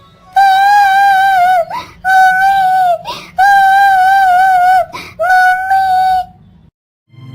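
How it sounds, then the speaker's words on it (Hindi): A little girl cries loudly in a Hindi cartoon story. There are long, wavering high-pitched wails broken by sharp gasping breaths, repeated four times close up, then a brief pause. "यहाँ पर तो कोई किसी बच्ची की रोने की आवाज आ रही है।"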